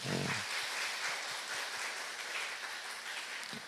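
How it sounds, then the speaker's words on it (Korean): Congregation at a Sunday church service applauds steadily, a dense wash of clapping that holds fairly even throughout and tapers slightly, with a brief low voice at the very start. "우리 네 분을 위해서 우리 박수 한번 쳐주시기 바랍니다"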